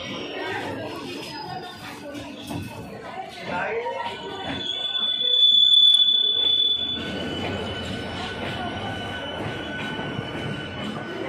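A local train pulls into Howrah railway station with a rumbling roll, high-pitched wheel squeal and a drawn-out tone, under station crowd chatter and nearby talk.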